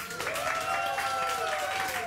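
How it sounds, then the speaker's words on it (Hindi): Studio audience applauding for a guest named Firoza on a live Pakistani morning show, a steady close wash of clapping that fills the whole moment, with the host's voice faintly mixed in. "फिरोजा के लिए बहुत सारी तालियां"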